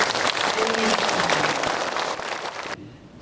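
An audience at a Buddhist association's 25th anniversary dharma assembly bursts into loud, dense applause to welcome a guest, sustained for a few seconds before cutting off abruptly.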